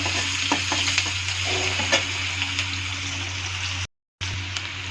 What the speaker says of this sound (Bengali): একটু হিং ছেড়ে দিলাম, একটু জিরে। তো সবগুলোকে ভালো করে এখন একটু ভাজা ভাজা করে নেব